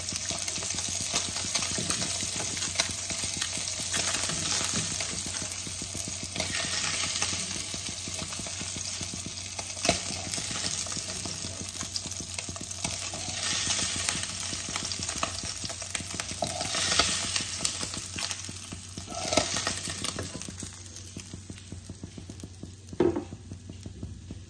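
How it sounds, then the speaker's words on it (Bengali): Boroli fish fry in a pan for boroli macher jhal with a steady, dense sizzle. Faint stirring and scraping rise now and then above the hiss over about twenty-five seconds, with no talking. "এবার আমি বাদ বাকি মাছগুলো সেমভাবে ভেজে নেব"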